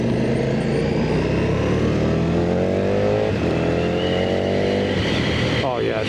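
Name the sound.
KTM motorcycle accelerating, engine revving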